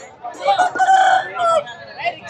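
Fighting roosters crow loudly and close by at a cockfight, several overlapping calls in quick succession with some clucking and faint crowd murmur.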